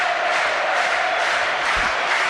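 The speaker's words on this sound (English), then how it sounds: "they're starting to make some noise, the Preston fans now" Home fans at a Preston North End football match make a steady, distant roar of crowd noise, a dense wash of voices with no individual words standing out.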